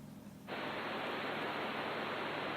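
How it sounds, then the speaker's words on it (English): After a brief low hum, a steady burst of bright synthesizer white noise switches on abruptly and hisses evenly and continuously until the end. "so the white noise sounds like this"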